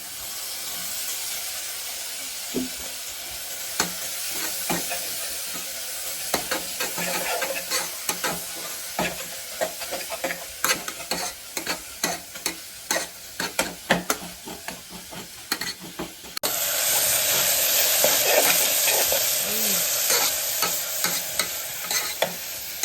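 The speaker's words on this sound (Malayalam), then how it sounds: "ഇഞ്ചി പച്ചമുളക്, ഉള്ളി നമുക്ക് തക്കാളി കൊടുക്കാം" Ginger, green chilli and onion fry in a pan as tomato goes in for a country chicken curry, with a steady sizzle, repeated spoon scrapes and clatters, and a louder, hissier sizzle near the end.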